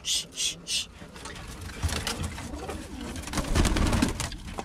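Birmingham Roller pigeons coo and flutter close by, with soft rustling and wing movement; a few brief hissing shushes at the start.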